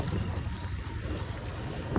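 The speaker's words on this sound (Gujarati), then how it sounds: "આગળ વરસાદ ખતરનાક ચાલુ છે" Dense, steady hiss of heavy rain pouring down without a break, loud and close, with no voices.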